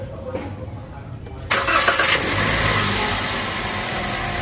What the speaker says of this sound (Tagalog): Okay, start makina.